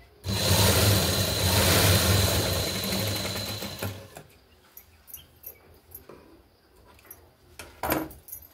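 A sewing machine stitches a blouse seam in a steady loud whirring run of about four seconds, then stops, leaving faint handling clicks and rustles.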